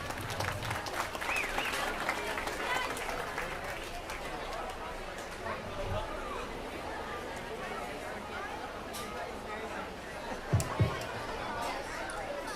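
Crowd applauding exhibitors at a youth swine market show, a sustained patter of clapping mixed with chatter and arena noise, with a couple of louder thumps near the end.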